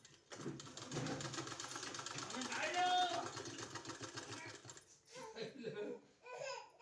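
A sewing machine stitches folded squares of two-coloured cloth for a kurti neck design, whirring steadily and rapidly for about five seconds before stopping, after which voices are heard.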